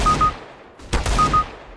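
Gunfire in the video game CS:GO: two sharp bursts of shots, one near the start and one just before the second mark, each with a short ringing tail, loud and without talk.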